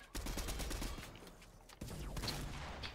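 Rapid bursts of video game gunfire crackle through a duos battle match, dense volleys in two stretches split by a brief pause, heard without talk.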